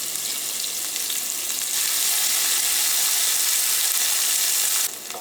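Onion, ginger and green chili fry in hot oil with cumin, a loud continuous bright sizzle that holds steady and then briefly drops near the end, with no talk.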